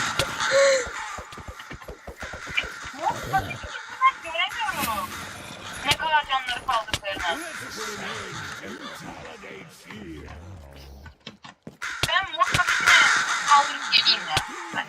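Crows caw repeatedly in the Minecraft video game, harsh rhythmic calls that come in bursts and mix with people talking.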